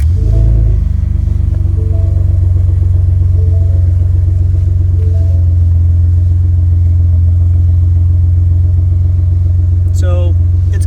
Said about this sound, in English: I'm going to go ahead and just start the truck.